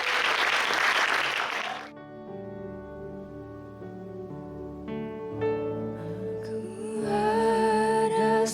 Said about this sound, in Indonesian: Ya kita beri aplaus buat pelayanan mereka teman-teman.